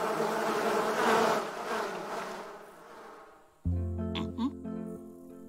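Cartoon bees buzz loudly in a dense swarm, the drone swelling and fading before a burst of music takes over.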